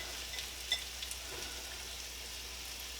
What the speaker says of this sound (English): We're going to take all our vegetables, so our onion, our carrots, and our celery, add those, and cook until the onions are fairly translucent.